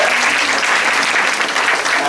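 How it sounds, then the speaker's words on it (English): Audience applause at a school prize distribution ceremony, steady dense clapping from many hands filling the room without pause. "Big clap. Big clap."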